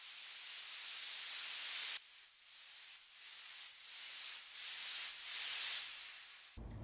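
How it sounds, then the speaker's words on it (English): A white noise sweep rises steadily as a transition effect in a beat, then gives way to rhythmic gated bursts of hiss pulsing in time before a sudden cut and a low thump. "I also added a white noise to ease the transition"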